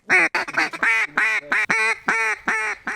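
A rapid run of loud, nasal duck-call quacks, about a dozen bursts in quick uneven rhythm, close and clear with no talking.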